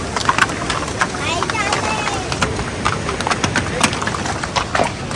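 A horse's hooves clip-clop on a rocky off-road trail, a rapid run of sharp clicks close by, partly masked by a voice and by rustling and wind noise.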